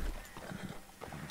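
Horse hooves clip-clop in a video game, a quick uneven patter of close hoofbeats over a rumbling background.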